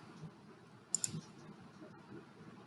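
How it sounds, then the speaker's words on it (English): A quick mouse click on a submit button in cost management software, a sharp double click near the middle of a quiet room, with no talking. "I'll simply click on submit"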